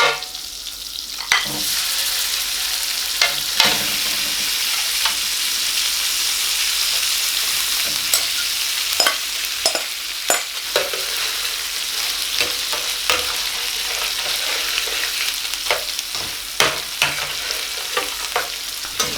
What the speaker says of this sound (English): Once the butter has melted, I want to add the pre-prepped meat.